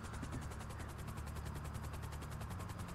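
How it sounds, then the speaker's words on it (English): An attack helicopter in GTA Online, its rotor thumping in a fast, steady, loud chop that stays close and unbroken with a constant roaring whine. "There's an attack chopper there, everyone."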